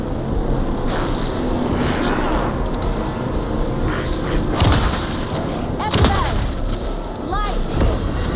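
Gunfire in Alan Wake 2 during a tense fight: dense, continuous firing and heavy booming impacts over a rumbling low din, with sharp bursts standing out, and voices talking over the action.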